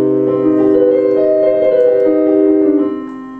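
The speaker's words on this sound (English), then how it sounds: "So you're basically playing a minor chord plus a major seventh." A minor major seventh chord is struck on a piano and held, its blended notes ringing close and clear for about three seconds before fading.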